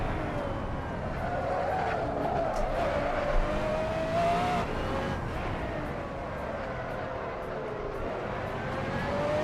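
Tyres squeal and slide under race-car engine noise in the Assetto Corsa racing game, with a rising-and-falling whine of skidding over a continuous engine drone and no speech.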